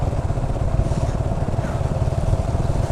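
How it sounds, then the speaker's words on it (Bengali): A motorcycle rides through floodwater near Cox's Bazar, its engine a close, steady, throbbing rumble that holds at an even level for the whole stretch. "আমি বাইক চালাই যাচ্ছি কেমন দেখেন"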